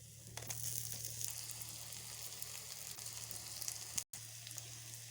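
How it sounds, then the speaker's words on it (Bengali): Onion frying in hot oil in a kadai makes a continuous soft sizzle with faint crackles and a brief dropout near the end, no voices. "এবার আমি পেঁয়াজটা দিয়ে দিচ্ছি।"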